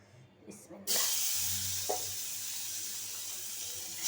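Katla fish pieces rubbed with salt and turmeric drop into hot oil and burst into a loud, steady sizzle and hiss that carries on to the end, with faint clatter from the pan beforehand.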